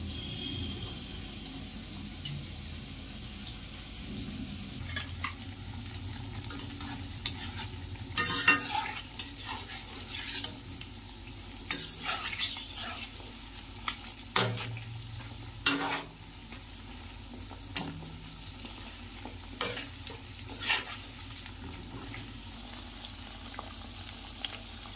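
Marinated chicken deep frying in hot oil, a quiet continuous bubbling sizzle broken by repeated sharp clinks and scrapes of a utensil lifting pieces in and out.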